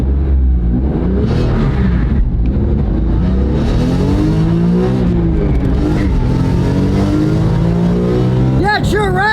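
A BMW race car pulls away hard from a stop on a racetrack, its engine droning and building under continuous talk from people inside.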